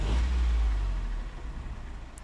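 A repaired Lexus CT200H hybrid's engine runs close by, a loud, smooth low hum that holds steady before settling slightly quieter, with no talking.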